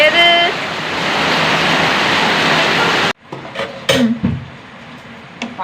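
Heavy rain roars loud and steady for about three seconds, then cuts off abruptly to a quieter room with a few clinks and faint voices.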